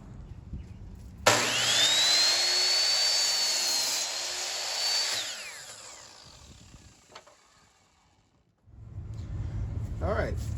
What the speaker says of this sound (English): to start, we're going to cut the very end of our wood at a 15-degree angle